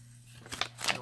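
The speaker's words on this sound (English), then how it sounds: "I'm going to slide my scissor blade in there, and then I'm going to just go right around that blue ink line" Steel scissors snip through card stock during a papercraft project, giving two short, crisp cuts close by over a low steady hum in an otherwise quiet room.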